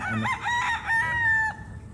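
A rooster crows once, a loud drawn-out call with a rising start and a long sustained high note that cuts off, heard close with no talking.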